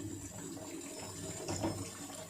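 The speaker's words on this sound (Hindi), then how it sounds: "अब हम इसमें मज़ीद और 1 गिलास पानी डालेंगे" A glass of water poured into a pot of Lahori murgh cholay as it cooks, a soft, steady splashing trickle that swells briefly toward the end, faint and close, with no talk.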